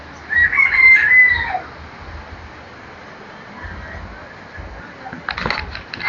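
Pheasants in a park enclosure give a brief, fairly loud crowing call near the start, followed by quieter background noise and soft rustling.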